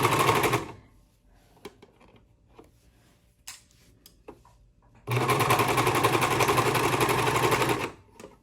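A serger stitches all the way around a piece of fabric in a long, steady, loud whirring burst, following a short opening run and a stretch of quiet handling clicks.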